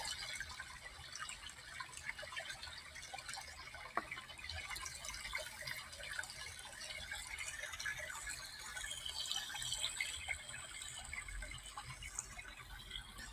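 Water trickles and drips steadily as a soft, continuous background wash, faint and even throughout with no voices.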